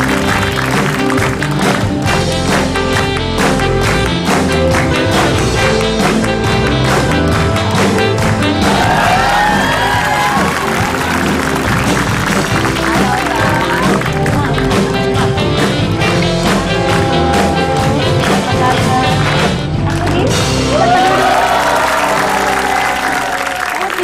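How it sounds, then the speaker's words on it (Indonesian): A studio audience applauds a guest star on an Indonesian TV show, producing loud, dense, continuous clapping mixed with music and crowd noise throughout. "Tepuk tangan buat bintang tamu kita hari ini"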